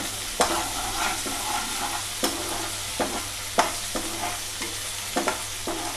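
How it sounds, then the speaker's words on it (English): Ginger garlic paste fries in a pan for mutton roast, a steady dense sizzle with a spatula scraping and stirring at irregular intervals, close and fairly loud, no voices. "fry the ginger garlic paste."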